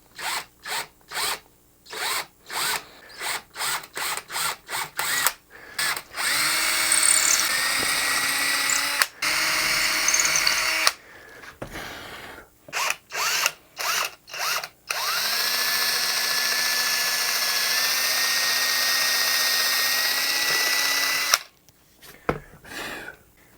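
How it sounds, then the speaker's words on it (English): A power drill bores neck mounting bolt holes through a custom guitar body. Several short close whirring bursts are followed by two longer sustained runs of drilling, separated by brief pauses. "let's finish up drilling these holes for our neck pocket mounting bolts"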